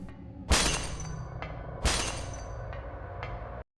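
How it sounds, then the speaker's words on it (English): Glass shattering in the Silent Hill horror video game: two loud, sharp crashes of breaking glass, each trailing off with scattered tinkling shards and smaller clinks in a quiet, empty room. "we can hear a bunch of glass shattering."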